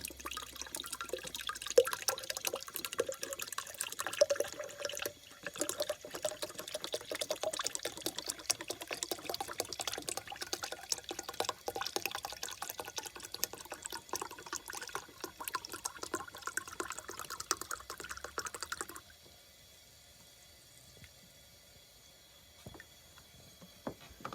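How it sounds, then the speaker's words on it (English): Water drains from a Magna Clean central heating filter in steady splashing and trickling for about nineteen seconds, close and fairly loud, then drops away to near quiet with faint drips. "So drain the Magna Clean out, and then that will just go"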